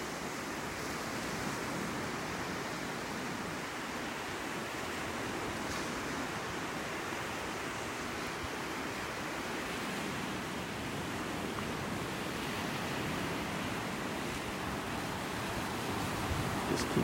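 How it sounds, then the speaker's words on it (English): Ocean surf rolls onto a beach during a tropical depression, a steady, full roar of breaking waves and wind-driven spray that stays loud and constant without pause. "Got some nice little waves rolling out there."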